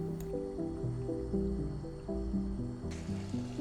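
Coolant glugging as it is poured into the coolant tank of a Mercedes E63S under repair, a steady series of bubbling, rising gurgles close by.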